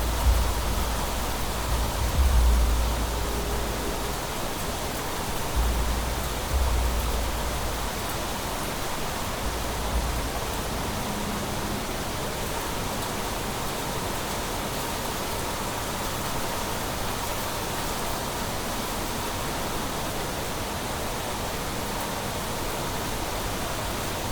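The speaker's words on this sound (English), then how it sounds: "But it's actually raining." Rain in the video game Planet Crafter, a steady, even hiss of falling rain that runs unbroken throughout, with a few soft low thumps near the start.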